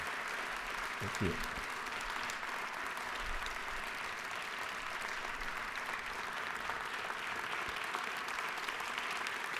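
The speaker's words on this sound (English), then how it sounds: "So will y'all give them a round of applause?" A legislative chamber at the Georgia House of Representatives fills with steady, dense applause that carries on unbroken for nearly ten seconds, with a short spoken thanks near the start.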